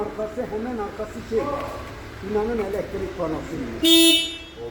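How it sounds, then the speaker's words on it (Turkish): A short Opel Astra H car horn blast cuts in near the end, loud and close, after a repaired CIM module fixes a horn fault, following continuous talking in the foreground. "Kornamız çalıyor."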